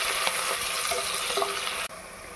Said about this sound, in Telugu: ఈ జింజర్, గార్లిక్, చిల్లీ మంచిగా ఫ్రై అయ్యి నైస్ అరోమా అనేది అందులో నుంచి రిలీజ్ అవుతుంది